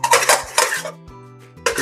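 Chicken and noodles in white sauce being mixed in a pot with a fork, several bright metallic clinks and scrapes close up in quick succession, with a short pause before a final clink.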